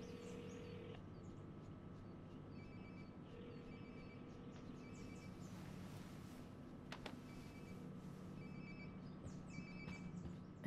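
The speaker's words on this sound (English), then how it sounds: "Sounds like my phone is definitely nearby." A phone rings faintly in repeated short bursts somewhere in the distance amid quiet ambient noise in the video game Life is Strange: Before the Storm.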